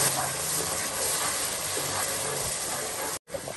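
Ground garlic and ginger paste frying in hot oil over low heat, a steady close broadband sizzle hissing evenly for a few seconds with one brief dropout near the end.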